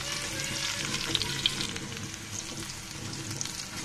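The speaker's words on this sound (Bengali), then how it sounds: "দেখুন পেঁয়াজ রসুনগুলো আমার ভাজা হয়ে গিয়েছে, ব্রাউন কালার করে নিয়েছি" Onion and garlic fry in oil until browned, giving a steady close sizzle with faint crackles and small stirring sounds, no voices over it.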